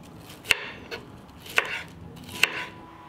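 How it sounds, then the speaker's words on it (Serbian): A knife chops bell peppers into thin strips on a cutting board in a home kitchen. Three sharp, distinct blade strikes land about a second apart, close and clear, with no talk. "Zatim ću iseći 3 paprike."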